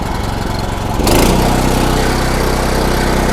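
A Yamamoto CP-4000 walk-behind wood chipper, a large unit imported from Japan, is pull-started: a quieter stretch, then the engine catches about a second in and settles into a loud, steady running drone close by with no talk.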